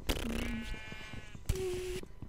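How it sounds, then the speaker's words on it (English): Two sheep bleats from the Minecraft video game, each a short nasal wavering call, the second slightly higher, with soft clicks and game noise around them. "Sheep, can you stop eating the grass around my house?"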